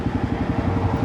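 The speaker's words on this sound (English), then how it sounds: "It's like chugging. What's chugging? My bike." A Royal Enfield Himalayan 450 engine chugging and lurching from a misfire caused by a failing sensor, a close, uneven rhythmic pulsing throb with no voices.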